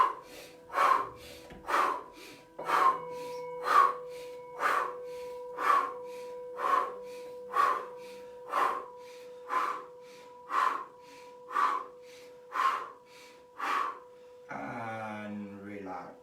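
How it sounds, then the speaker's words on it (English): Rapid rhythmic breathing during a guided meditation exercise, about fifteen sharp evenly spaced breaths over a steady tone, ending with a brief voice. "fast breathing."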